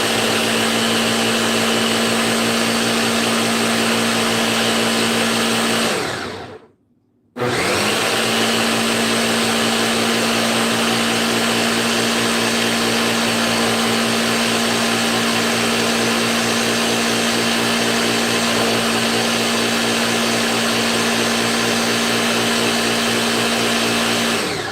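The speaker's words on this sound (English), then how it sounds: "At least my blender thinks it's done." A kitchen blender whirs loudly and steadily as it blends an extreme sour smoothie, cutting out briefly for about a second before running on again at full power.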